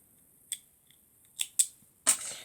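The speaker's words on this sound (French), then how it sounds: "Et après, je viens couper l'excédent." Scissors snip off the excess paper of a Christmas bird craft in several short, crisp cuts, close and fairly quiet against a silent background.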